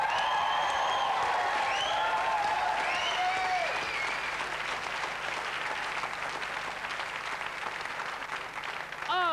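A television studio audience at a 1990 BBC2 panel show cheers and applauds loudly and continuously, with whoops and shouts rising over the clapping before it gradually settles.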